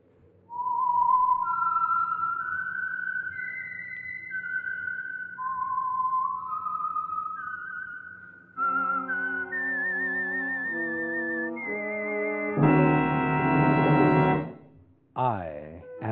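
A whistled melody of gliding, sustained notes, the signature tune of the old-time radio drama The Whistler, followed by a brief rising orchestral flourish and sharp tonal accents at the end.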